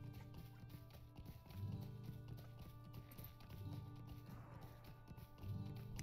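Hooves clip-clop steadily as a horse is ridden in the Lord of the Rings Online game, with an occasional whinny. The sound is quiet and regular, carried over a soft low ambient hum.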